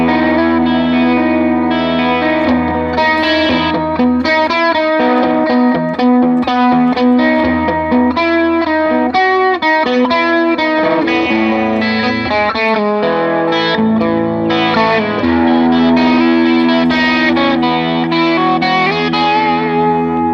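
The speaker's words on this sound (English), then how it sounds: "Let's try a chorus on that." An electric guitar played through a Line 6 Pod Express on a chime setting with chorus added, giving steady, shimmering chords and melodic lines that ring continuously and alone, with no pauses.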